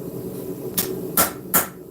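A hammer strikes hot steel while an integral bolster knife is forged and its tang tapered. Three or four sharp, ringing blows land at uneven intervals over a low background hum.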